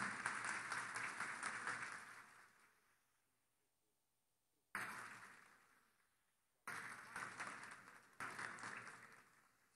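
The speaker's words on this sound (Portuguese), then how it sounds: "uma calorosa salva de palmas para o ministro" Warm applause for Brazilian minister Blairo Maggi at a national dairy-sector protest rally, loud sustained clapping from a large crowd that fades out, then bursts back twice in strong swells.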